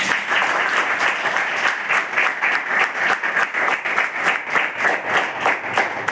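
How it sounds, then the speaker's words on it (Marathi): A group of girls in a tribal girls' hostel claps together in a steady, rhythmic round of applause, loud and close, continuing evenly throughout. "टाळ्या वाजवा जरा"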